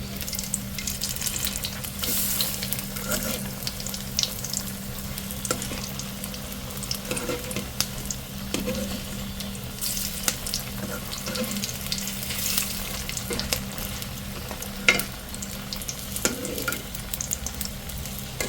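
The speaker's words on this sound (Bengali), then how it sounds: "এই তো এক এক করে আমি আলুর চপ ভাজতেছি" Potato chops (aloo chop) coated in gram-flour batter deep-fry in a wok of oil, a steady close sizzle and bubbling running throughout with occasional louder crackles and spatters, no voices.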